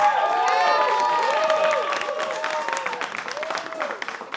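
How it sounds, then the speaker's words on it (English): A crowd applauds and cheers for the budtenders, loud clapping with whoops and excited voices that peaks early and then slowly thins out. "Clap it up one more time for the budtenders"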